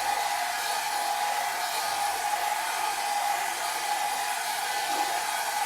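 A hair dryer blows on alcohol inks with a constant loud airy hiss and a steady motor whine, unbroken throughout and with no voices.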